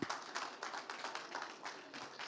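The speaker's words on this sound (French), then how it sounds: "On peut l'applaudir." At an environmental awards ceremony, a small audience applauds award winners with distinct, fairly sparse claps in a loose rhythm, soft and somewhat distant.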